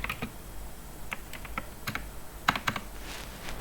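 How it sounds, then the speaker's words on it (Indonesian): Keys clacking on a computer keyboard while a command is entered during Android app signing, a dozen or so separate close taps in an uneven rhythm, louder toward the end, with no voices. "Nah, kemudian kita ketik"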